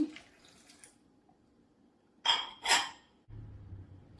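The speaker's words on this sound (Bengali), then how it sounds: "সামান্য পানি দিয়ে দেব" A little water is poured into blended tomatoes in a short, close splash about a second long. A faint low hum follows.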